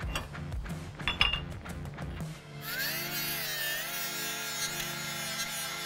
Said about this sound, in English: This is a Milwaukee right angle die grinder